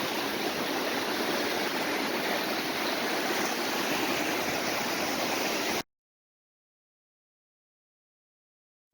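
Arkansas River water runs hard over big rocks, a loud, close, continuous rushing roar that holds steady for several seconds before cutting abruptly to silence.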